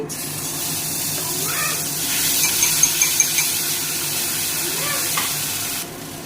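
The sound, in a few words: spice paste added to hot oil in a wok, sizzling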